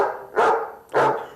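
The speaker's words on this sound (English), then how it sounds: "I think that sounds like an angry dog." Two sharp, loud barks from a recorded dog sound angry, each close and punchy with a short fading tail, spaced about half a second apart.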